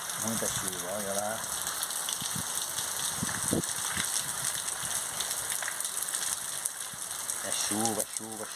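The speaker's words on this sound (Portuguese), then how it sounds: "muita chuva mesmo aqui" Steady heavy rainfall at night in Irecê, Bahia, a broad unbroken hiss of water on surfaces, with someone speaking intermittently over the downpour.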